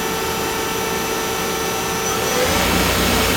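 An Ace LT-20 CNC lathe's spindle turns slowly at around 1,000 RPM, giving a steady loud machine whine and hum that swells slightly near the end.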